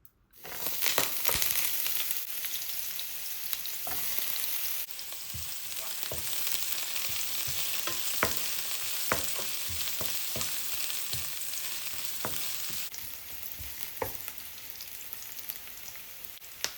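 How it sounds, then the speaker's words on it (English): Onion frying in vegetable oil on medium heat, a continuous close crackling sizzle with scattered pops, steady throughout and with no voices. "I am going to cook the onion until they are medium brown."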